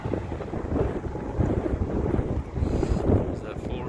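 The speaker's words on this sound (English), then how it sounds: "we're getting a little bit of rain" Wind gusts and light rain outside a pallet shed under construction, a steady broadband rush with low rumbling buffets against the microphone that swell and ease throughout.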